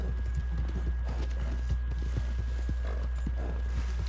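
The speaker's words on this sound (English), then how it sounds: "I believe the horse I'm riding right now, the Biggin" Hooves of a ridden video-game horse called the Biggin clip-clop in a steady, quick trotting rhythm, close and even, over a constant low hum and a thin held tone.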